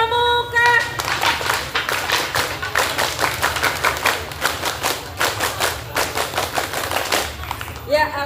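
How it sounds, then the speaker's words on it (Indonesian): A group of young Siaga scouts at a scout festival in Adiwerna, Tegal performs the Pramuka scout clap twice: sharp, synchronized hand claps in a fast rhythmic pattern, loud and close, with brief voices at the edges. "2 kali tepuk pramuka."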